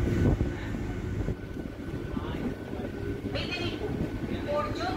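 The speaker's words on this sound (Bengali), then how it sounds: "বেশ কিছু সময় দাঁড়িয়ে ট্রেন ছাড়লো।" After a long halt at Gokulpur in heavy rain, a Howrah-Midnapore local train pulls away with a broad rolling rumble and rattling carriages. Faint squeals sound over the noise, and voices can be heard faintly.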